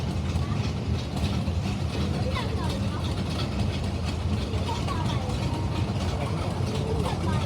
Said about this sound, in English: we got the first steam engine coming down the track here